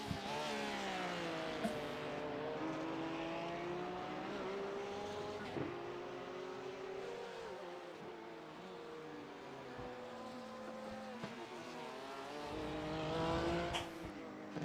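Race cars lapping Imola in the iRacing sim, GTE/GT3 class, with steady overlapping engine drones rising and falling through gear changes and a brief tire squeal, sustained and fairly loud throughout.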